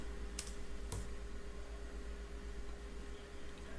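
Two sharp keystrokes on a computer keyboard sound early on, then stop, over a steady electrical hum and background hiss while a typo is fixed.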